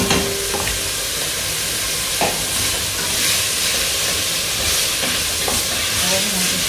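Onion frying in oil in a pan for an oven-ready lasagne: a steady, fairly loud broadband sizzle runs throughout, with occasional stirring scrapes and clicks; no one speaks.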